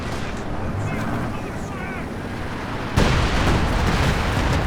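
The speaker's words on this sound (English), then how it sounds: "The artillery from the Panther to kill off the decrewed AT gun" Artillery fire from a Panther tank in the Company of Heroes 2 strategy game: a dense wall of rumbling battle noise that jumps in loudness near the end as a heavy boom lands, continuous and close.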